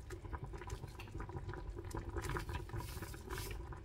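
Sinigang soup bubbles in a small pot, a quiet, steady boiling burble with soft liquid pops, close and faint.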